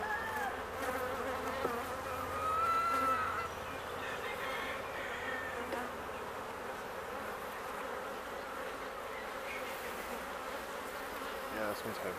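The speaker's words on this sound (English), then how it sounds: "Just going to do the same thing and brush the bees down." Honeybees buzz steadily around honey frames during a harvest as they are brushed off, a continuous faint droning hum throughout with a brief louder swell early on.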